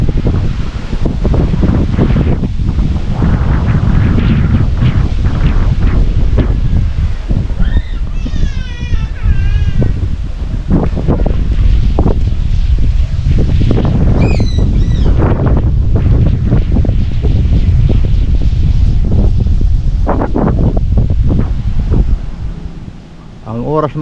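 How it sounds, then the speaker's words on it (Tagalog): Strong typhoon wind buffets the microphone during a storm with zero visibility, a loud continuous roaring rush with gusts throughout, while someone talks over it. "Medyo may kalakasan na yung hangin mga kapobre."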